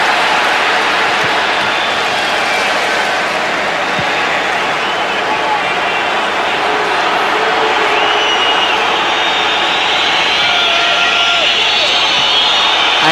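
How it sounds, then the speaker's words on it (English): A large stadium crowd at a Manchester United v Liverpool football match roars steadily with scattered anxious whistles rising through the din, loud and sustained throughout. "Anxious whistling from the crowd."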